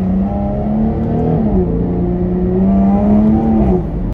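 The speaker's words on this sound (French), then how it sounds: "tu as aussi la plus belle sonorité de ce V6" A Jaguar F-Type's V6 engine pulls hard from inside the car, its loud, throaty drone climbing steadily with a brief dip partway through, then rising again, with no talking.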